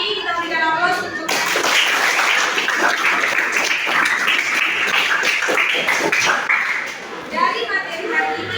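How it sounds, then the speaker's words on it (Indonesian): Students in a high school biology classroom clap for their classmates' answers, a dense, steady patter that fills several seconds and then fades, with a teacher's voice and children's voices before and after it. "Kita berikan aplaus untuk"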